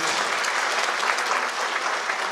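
Concert audience clapping together in a steady, dense, sustained burst of applause that fills the hall, with no voices standing out.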